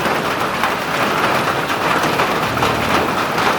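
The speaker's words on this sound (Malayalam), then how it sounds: "ഇവിടെ കാടിനുള്ളിൽ മഴ പെയ്യുന്ന കണ്ടിട്ടുണ്ടോ?" Steady, dense rain falls through a forest at Periyar, a continuous broadband hiss that stays even and close throughout with no voices.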